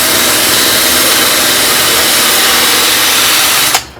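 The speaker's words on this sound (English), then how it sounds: "So I like to just use a little roll-lock sanding disc." A roll-lock sanding disc strips paint from the door of a 1970 Challenger in a shop, a loud continuous whirring grind that runs steadily and then cuts off sharply near the end.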